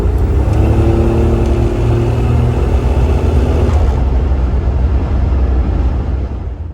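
A Buick Grand National engine pulls hard during a fuel-adjustment tuning run, a loud close rumbling roar with a rising whine that holds and then eases off toward the end, heard from inside the car with no talking.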